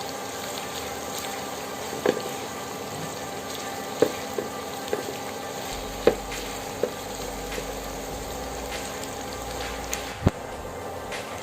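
Onions frying in half a cup of oil for beef tripe bhuna, a steady soft sizzle with a low background hum and occasional sharp clicks of a utensil against the pan.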